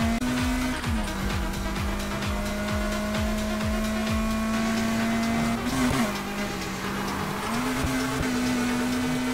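A car in Need For Speed Heat pulling a handbrake turn: loud, close engine drone with repeated revving sweeps as the motor winds up and shifts, the pitch dipping and climbing through the slide.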